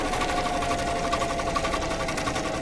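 A sewing machine runs a zigzag stitch in one steady, fast mechanical chatter, loud and close, with no talking.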